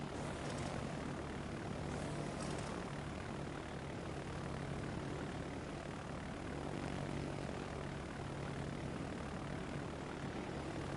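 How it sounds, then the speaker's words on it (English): Fighter aircraft take off and fly in a PS4 war game, giving a steady, droning propeller-engine roar that holds at an even level throughout with no talking. "My fighters are up in the air again."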